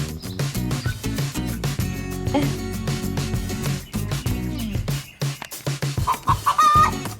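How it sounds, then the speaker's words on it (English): Hens cluck close by in a quick, uneven series of calls and squawks, with short pauses between bursts, among a backyard flock that includes young chickens. "There's always somebody clucking around here."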